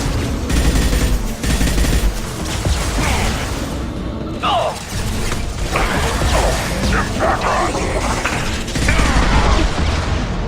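Loud, heavy gunfire in the video game Mass Effect 2, with dense bursts and clattering mechanical ratchets layered into a continuous, close combat din, a voice briefly audible through it.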